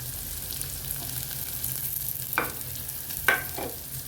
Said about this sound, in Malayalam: ഉലുവ പൊട്ടിയതിന് ശേഷം സവാള ഇട്ട് കൊടുക്കാം